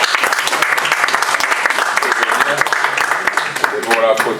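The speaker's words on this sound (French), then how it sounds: "Applaudissez-le encore, s'il vous plaît." Sustained audience applause at a family-photo moment during an inauguration event in Paris, dense steady clapping throughout with a voice speaking faintly underneath.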